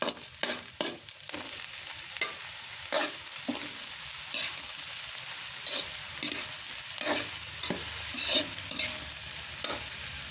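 Patola (sponge gourd) sautéing in a pan, a steady close sizzle with spatula stirs and scrapes breaking through at irregular intervals.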